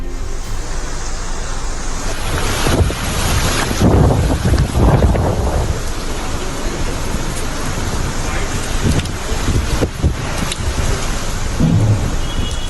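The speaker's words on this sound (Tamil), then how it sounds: "ரெமல் புயல் காரணமாக மேற்கு வங்க மாநிலம் கொல்கத்தாவில் பலத்த காற்றுடன் கனமழை." Strong wind and heavy rain from Cyclone Remal in Kolkata, a steady loud roar of rushing wind and downpour with heavier gusts swelling midway, continuous throughout.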